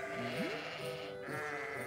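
Young children imitate sheep, giving a quiet chorus of wavering bleats, one rising cry followed by a few more overlapping voices.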